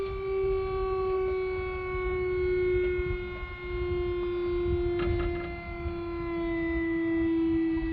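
Hydraulic ramp on a 2005 Ford F550 truck lifting, a steady high pump whine with a strong tone held for several seconds under low rumbling noise, slightly strained and wavering.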